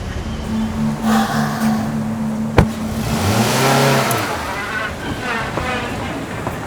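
A car engine revs and accelerates in a passing swell that rises and falls near the middle. A sharp knock comes first, and a faint steady tone sits under it.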